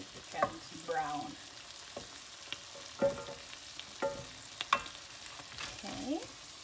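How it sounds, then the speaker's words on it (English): Pork sizzles quietly in an Aldi cast iron pan while a utensil scrapes and flips the pieces in short, irregular strokes over a soft, continuous frying hiss. "So I'm just flipping all the pork. Right. Then just stir occasionally until it becomes brown."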